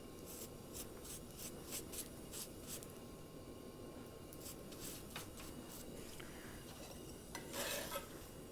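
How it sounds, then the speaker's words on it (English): Holige, a sweet flatbread, is flipped on a hot pan and brushed with ghee, giving steady soft sizzling with repeated light scraping and brushing strokes close by, without any talking. "I'm going to flip this over and apply some ghee again."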